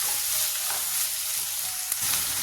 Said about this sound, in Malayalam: സവാളയൊക്കെ നല്ലതുപോലെ ഒന്ന് വഴ വഴണ്ട് വന്നിട്ടുണ്ട്